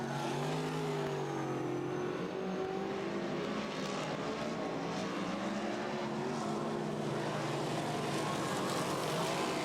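Race cars lapping at Robertson Prestige International Speedway, a continuous blend of engines droning and rising as they circle, heard at a moderate distance with no break in the noise.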